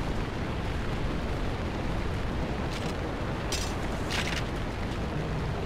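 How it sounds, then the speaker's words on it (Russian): Explosions in the James Bond 007 Nightfire video game, a continuous rumbling roar of blasts with a few brief crackling bursts, heard without talk. "Ну что-то где-то взрывается"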